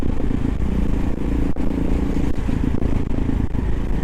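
Old Kawasaki KLR motorcycle ridden through New York City streets, a loud continuous engine drone with wind buffeting and occasional clatter, close and steady throughout.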